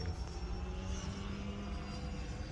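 A Freewing F9F Cougar RC model jet flies overhead, its ducted-fan engine making a steady, moderately distant whooshing drone with low rumble and no voices.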